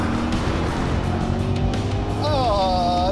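Porsche 911 Turbo S accelerating hard in a drag race, a loud engine roar with rising pitch as it climbs through the revs near the end.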